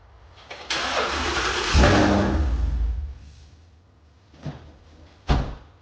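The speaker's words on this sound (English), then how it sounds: "I'm gonna put the car on and see if it works." A car engine cranks briefly, catches and fires up, revs once loudly and settles into a rumbling idle, followed by two short throttle blips, close by with no talking.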